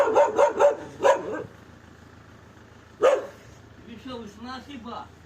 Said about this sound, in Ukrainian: Песик гавкає.